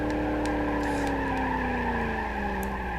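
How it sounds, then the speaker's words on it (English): Car drifting in BeamNG.drive, engine droning steadily while tires skid and squeal continuously, loud and close throughout with no talking. "Let's do a drift with this thing."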